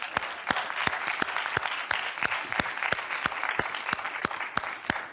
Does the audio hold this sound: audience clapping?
yes